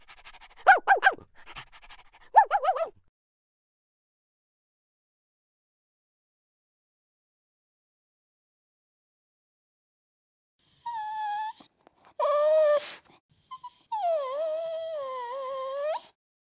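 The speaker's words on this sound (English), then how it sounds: "the little puppy wants to say something to you" A puppy pants in a few short bursts, then whimpers and whines in rising, wavering cries after a long silence, close and clear with no talk.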